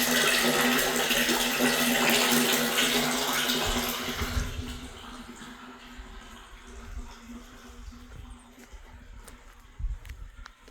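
Water pumped uphill pours into a tank at a remote off-grid island cabin, a strong splashing rush that fades after a few seconds into quieter trickling and scattered knocks.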